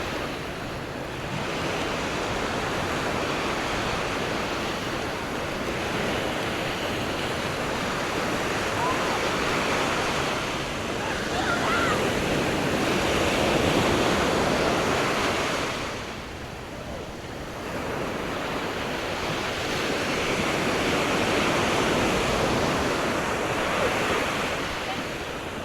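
Ocean surf rolls onto a Rhode Island beach at Napatree in long, broad washes that swell and fade, with wind rushing steadily across the microphone.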